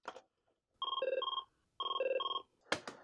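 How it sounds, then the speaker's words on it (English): A Merlin telephone rings its ringtone twice: two electronic trilling bursts of warbling tones with a short gap between them, plus soft clicks before and after. No one speaks. "So remember that pretty iconic ringtone we were looking at earlier?"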